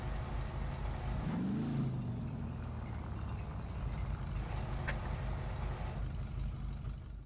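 A continuous engine rumble of a car driving in GTA V Online, with a brief rising whine as it accelerates, steady and close throughout.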